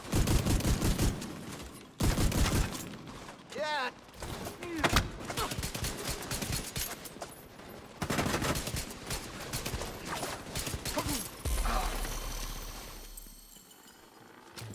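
Gunfire in the video game The Division 2, repeated bursts of sharp shots and short volleys scattered through the clip, interleaved with someone talking between them.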